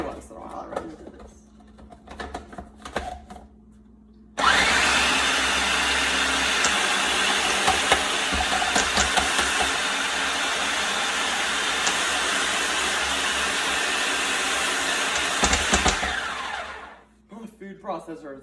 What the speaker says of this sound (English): My food processor has been through a lot.